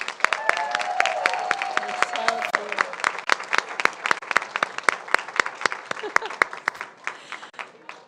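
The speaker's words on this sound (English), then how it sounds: "let's give him a big round of applause" Applause for a first-place theater award winner at a school governing board meeting, a crowd clapping steadily with loud close claps over a few voices, thinning out toward the end.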